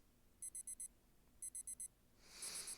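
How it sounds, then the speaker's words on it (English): Bright electronic beeping from an alarm clock in a video game, sounding in two sets of four quick tones, then a swelling shrill ring near the end, clear against a quiet background. "that alarm is loud and it's annoying"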